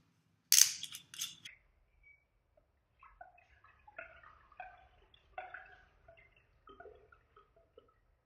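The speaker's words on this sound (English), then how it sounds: "Let's get the wine poured" Kim Crawford Sauvignon Blanc poured into a glass: a close, sharp clink or bottle knock at the start, then a light, bubbly glugging splash of wine that trickles off in short bursts, with no talking.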